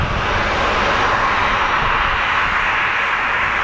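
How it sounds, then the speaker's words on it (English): An Embraer Brasilia turboprop arrives at Phoenix Sky Harbor airport, its engines a loud, steady roar with a broad rushing hiss that holds throughout, and no voices. "we're going to be getting an Embraer Brasilia coming in as well very shortly"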